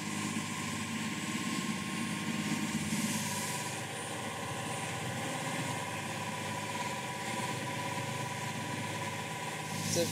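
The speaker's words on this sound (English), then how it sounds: "The deafening sound of the engine is headache-inducing." A migrant boat's engine drones loudly and steadily throughout, a continuous mechanical hum filling the space with no pauses or breaks.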